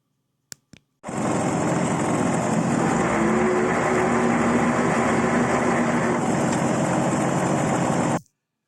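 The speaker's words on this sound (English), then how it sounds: "One of the worst bits was the noisy clutch, which sounded like this." Two faint clicks, then the engine of an old vehicle with a noisy, broken clutch catches and runs at a steady idle for about seven seconds, with a loud, even churning drone and clutch rattle before it cuts off abruptly.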